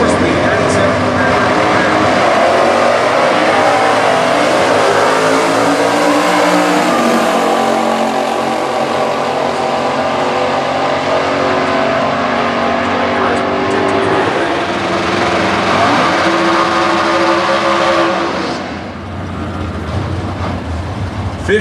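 A 455 cubic inch stock eliminator drag car with a 4-speed revs hard at a national drag racing event, a loud, close engine roar that surges and shifts pitch for most of the span before easing off near the end.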